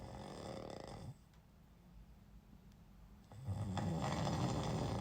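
A person snoring in a rhythmic breathing pattern, close and fairly loud, with a quieter gap mid-clip before the next heavy snore swells up; no talking.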